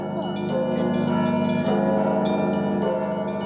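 Church bells ring together in a dense, resonant peal at a bell-ringing festival, overlapping strikes layering into a steady metallic wash without a break.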